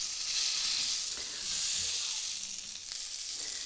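A breaded fish fillet sizzles in plenty of fat in a pan, a steady close crackling hiss with faint stirring or shifting sounds and no talking.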